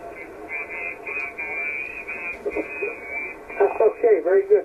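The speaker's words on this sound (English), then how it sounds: "In the background you can hear that signal that's a little bit off frequency." An interfering HF radio transmission slightly off frequency comes through as a garbled, warbling, band-limited voice under receiver hiss, growing louder and choppier toward the end.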